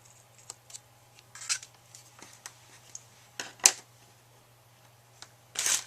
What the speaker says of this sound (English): And I'll just cut this up.